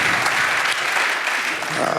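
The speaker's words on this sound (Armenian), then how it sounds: "եկեք ծափարենք վիտամին ակումբին" Audience applause at a Vitamin Club Armenian comedy show: a dense, steady roar of clapping from a large crowd that fills the short stretch at constant loudness.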